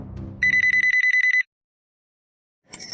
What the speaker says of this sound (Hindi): मैंने नहीं उठाया तो तुम लैंडलाइन पे फोन कर रहे हो?